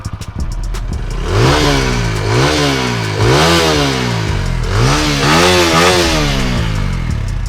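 A TVS Apache RTR 200 4V motorcycle engine revs up hard several times in close succession, its exhaust roaring and crackling loudly, then settles back to a throbbing idle between bursts.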